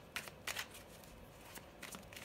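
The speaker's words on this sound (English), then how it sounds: "I pre-shuffled these decks, but I like to shuffle them a little bit more." Tarot card decks being shuffled by hand, a few quick papery riffles and soft flicks in short bursts, close and quiet with no talking.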